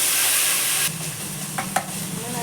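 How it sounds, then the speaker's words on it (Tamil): Onions sizzling in hot oil in a pan for mushroom biryani, a steady loud frying hiss throughout with a couple of brief stirring scrapes near the end, no voices. "வெங்காயத்தை போட்டு நல்ல எண்ணெயில் வெங்காயம் வதங்கிடணும், வதக்க விட்டுருணும்"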